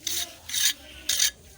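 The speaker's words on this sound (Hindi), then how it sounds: "ऊपर से प्लास्टर भी कर दे रहा हूँ" Plaster being worked over a pipe with a trowel, three rhythmic rasping strokes, close and fairly loud, with short pauses between them.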